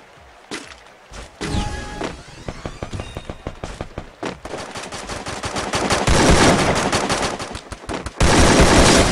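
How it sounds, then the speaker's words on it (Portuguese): AK rifle fire in the video game Free Fire crackles in sharp, rapid bursts, first as scattered shots and then as dense, louder automatic volleys near the end, with no talk. "A AK tá muito boa."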